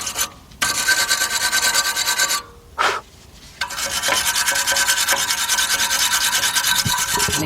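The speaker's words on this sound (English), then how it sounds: "take a wire brush" A wire brush scrubs brake pad clips on a 1995 Ford Econoline E-150 with a harsh, loud rasping rub in repeated strokes, briefly pausing twice before steady scrubbing resumes.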